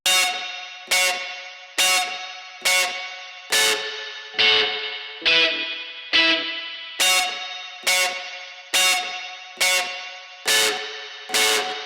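A DI Telecaster run through the Waves Voltage Amps plugin, amp only with no cabinet, plays a repeating distorted chord stab roughly once a second, bright and buzzy with a quick decay, loud and alone.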